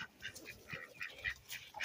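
Chickens being urged to fly make a run of quick, rough squawks and clucks, several birds overlapping in short bursts at moderate distance.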